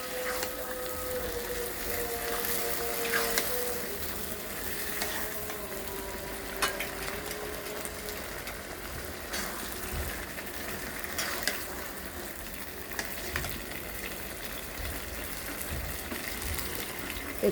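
Green chillies hiss and spit in a pan of mixed banana-stem curry, a steady close-up sizzle with scattered pops and crackles throughout.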